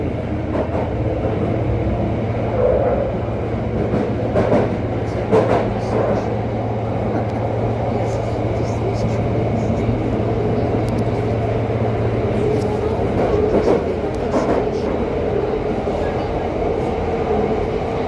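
A 1906 Great Northern Piccadilly & Brompton Railway train on the London Underground's Piccadilly line rumbles along steadily with a sustained low drone, a humming tone for a long stretch, and occasional clanks and squeals over a constant roar.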